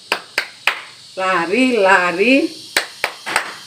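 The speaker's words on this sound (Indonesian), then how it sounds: "Ibu mengajak kita untuk melakukan gerakan tepuk Zakheus." Hand claps from the Tepuk Zakheus clap song in a children's religious education class: three sharp, evenly spaced claps, a sung phrase, then three more claps.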